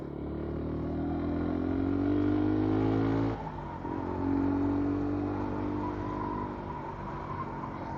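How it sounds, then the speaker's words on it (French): A motorcycle on a road out of a bend builds revs with a steady rising engine drone, dips briefly at a gear change, then climbs again under wind noise. "J'accélère pour sortir du virage"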